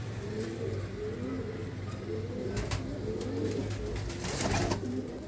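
Soft, repeated cooing of old red Cheena pigeons, low and fairly faint in rhythmic phrases, with faint traffic noise in the background.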